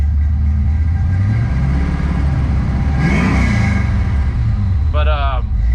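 A 1966 Ford Mustang V8 with Holley Terminator X fuel injection, revving briefly as the throttle is pressed, a close, steady engine rumble with a short rise in the middle, while someone talks over it.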